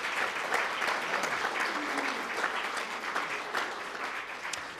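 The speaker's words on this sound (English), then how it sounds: "Please, Assembly members, give them a round of applause." A room of assembly members breaks into sustained applause at a meeting's closing, a steady wash of many hands clapping at moderate distance that tapers slightly toward the end, with no one speaking over it.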